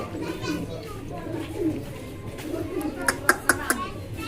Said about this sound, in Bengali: এখানে কিন্তু খুবই সুন্দর বিগ সাইজের, এক কথায় রেঞ্জ যে কবুতর আছে